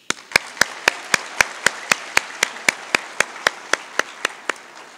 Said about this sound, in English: Y'all deserve a round of applause.